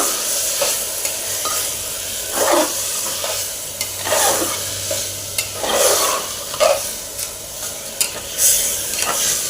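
Whole masoor pulao with soaked basmati rice being stirred in a pan: soft scraping strokes come in a loose rhythm, about every one to two seconds, over a low continuous sizzle, close and moderately loud.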